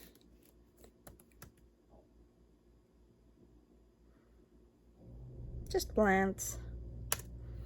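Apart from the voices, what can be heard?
typing on HP Pavilion x360 laptop keyboard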